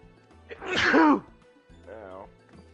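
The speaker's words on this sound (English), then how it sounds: "I'm about to start sneezing." A man sneezes loudly once, a sharp burst followed by a shorter voiced exhale, close to the microphone while quiet game music plays underneath.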